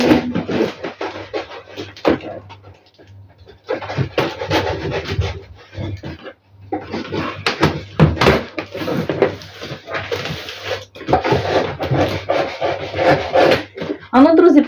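A parcel being opened at close range: repeated rubbing, scraping and tearing of packaging in bursts with brief pauses, fairly loud throughout.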